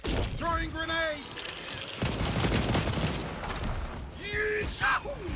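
Gunfire and a thrown grenade in the cooperative dinosaur shooter game Second Extinction, with rapid bursts of shots and a blast under creature roars and game music, loud and busy.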